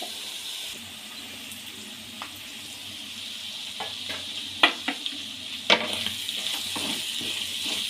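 Onions and mutton deep fry in a pan with a steady, close sizzle, broken by a few scraping stirs and clinks toward the middle.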